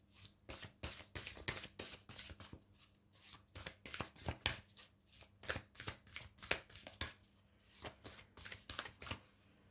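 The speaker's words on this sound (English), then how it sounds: "Let me pull out some more oracle cards for you." Oracle cards are shuffled in a steady run of crisp, rapid riffling bursts, close and fairly loud, with brief pauses between strokes and no talking.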